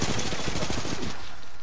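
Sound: gunfire in the video game Apex Legends

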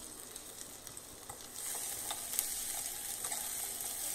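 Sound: garlic, curry leaves and shallots frying in oil

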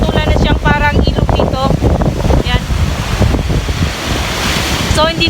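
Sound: large waves crashing on baywalk road during Typhoon Auring

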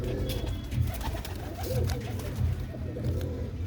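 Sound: pigeons cooing

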